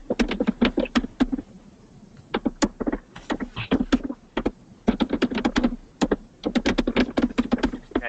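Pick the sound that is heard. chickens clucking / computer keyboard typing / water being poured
computer keyboard typing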